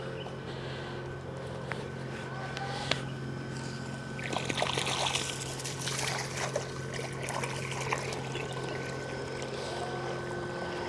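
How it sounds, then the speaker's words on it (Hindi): Onion plants watered in a home vegetable garden, with a steady outdoor trickle and flow of water and a faint constant hum underneath, and no one speaking. "ये प्याज भी इसी तरह पानी लगा रहे हैं,"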